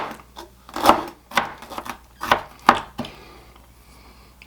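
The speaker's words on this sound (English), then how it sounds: "we're going to chop these up same way into finer chunks, maybe 1/4-inch chunks or something" A knife chops celery into fine chunks on a cutting board, giving several crisp, close thunks at an uneven pace with short pauses between cuts.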